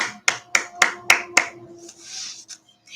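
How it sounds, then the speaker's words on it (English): A few people clap in a short burst of about five sharp, distinct claps at a church service, then a faint lingering murmur. No one talks during it. "Round of applause for that."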